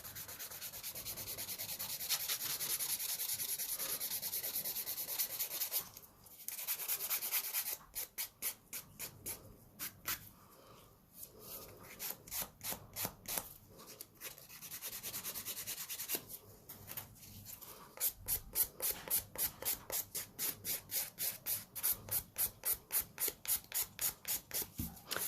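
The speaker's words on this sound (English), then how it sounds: "I'm filing down to where my smile line should be." An acrylic nail being smoothed with a 240 grit nail file gives close, steady scratchy rasping, first as a continuous rub, then as rapid rhythmic back-and-forth strokes with brief pauses.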